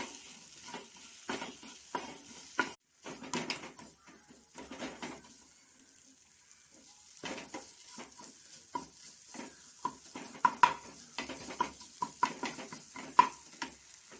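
Spice powders fry with chopped tomato in a pan, with curry leaves and mint, giving a soft steady sizzle broken by repeated scraping stirs, close and moderately quiet with no speech.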